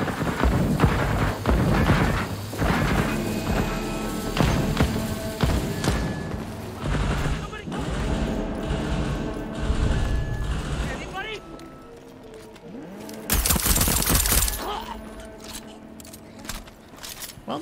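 Video game turrets fire in rapid mechanical bursts and booms, dense and loud at first, thinning out, then surging again near the end, mixed with clattering game sounds.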